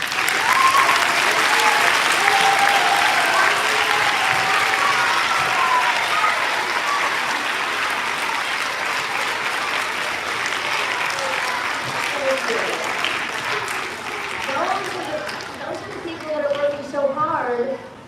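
A school audience gives kitchen workers, aides, the principal and the superintendent a long, loud round of applause that gradually thins out, with scattered voices and chatter rising near the end.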